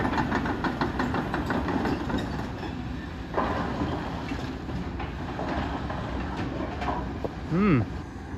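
A big 30-tonne excavator working on a blasting site, its diesel engine a steady low rumble with clanking, rattling movement throughout, mixed with other machinery noise and a short whistle-like tone near the end.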